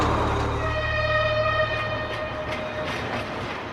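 Train wagons roll steadily along rails, a loud continuous rumble with faint rhythmic clatter and a high metallic whine, heard close and without any talk.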